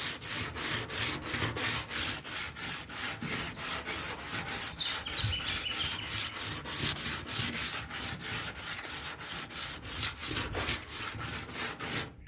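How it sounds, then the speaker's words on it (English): A block wrapped in wood sandpaper rubs the top layer of paint off a surface in quick, regular back-and-forth strokes, a close, rhythmic scratchy rasp repeating steadily with no talk. "I'm just going to give this a quick sand."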